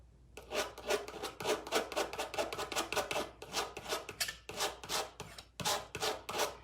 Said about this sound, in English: right now, I am using this palette knife. When I scrape, I want you to listen to the sound.